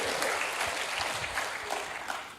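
A church congregation claps at a worship service, a dense, lively burst of many hands with uneven individual claps standing out, lasting a couple of seconds.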